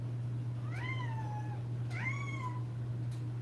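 A pet cat named Mimi meows twice, each call a drawn-out, falling cry, close and clear over a steady low electrical hum.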